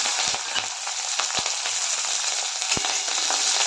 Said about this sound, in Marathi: तेल गरम झालेलं आहे त्यामध्ये मी थोडीशी जिरे टाकते